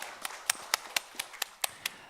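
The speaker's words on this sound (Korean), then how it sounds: "하나님께 영광의 박수 올려드리겠습니다." A church congregation claps together in steady unison, about nine crisp, evenly spaced claps in quick rhythm with no voices over them.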